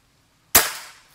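One sudden, loud crack of an air rifle firing close by, followed by a brief hissy tail fading out in silence.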